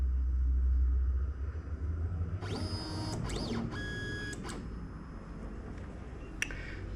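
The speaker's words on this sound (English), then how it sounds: "I'll home the machine." An AlgoLaser PIXI laser engraver homing, with a few short whirring stepper-motor sweeps and chirps rising and falling over a quiet room hum, close by.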